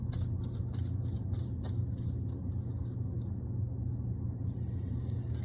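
A deck of cards is shuffled with steady, rapid riffling and rustling, close and continuous, over a constant low rumble in the background.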